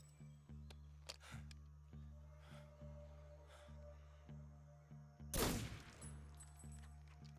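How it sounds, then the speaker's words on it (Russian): Gunfire in the video game Metal Gear Solid 3, a burst of loud shots toward the end over a steady rhythmic musical pulse, with fainter sharp reports earlier. "Звуки выстрелов прям так смачненько."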